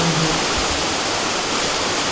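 Rushing water from Ciwalen waterfall on a forest trail in Cibodas, Gunung Gede Pangrango national park, a steady, dense roar of falling water that fills the whole clip without pause.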